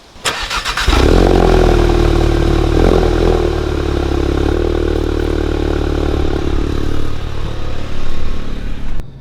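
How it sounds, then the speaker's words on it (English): A Volkswagen Mk7 GTI's engine starts with a short burst, then runs steady and loud close by, with a low rumble and a brief rise in revs near the end. "let's go for a little ride in the GTI"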